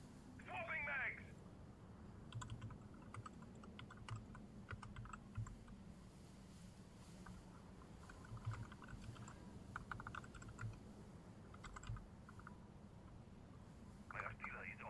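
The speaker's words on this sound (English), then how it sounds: "Wow, I can't spell on a keyboard." Computer keyboard typing during a Rainbow Six Siege-style competitive league broadcast: scattered clicks and short bursts of key presses, fairly faint, over a steady low background hum.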